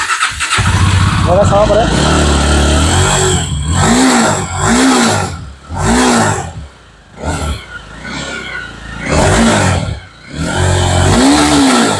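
A Jawa 42 motorcycle starts up and revs close by, its exhaust note rising and falling in several strong bursts, with someone talking between and over the engine.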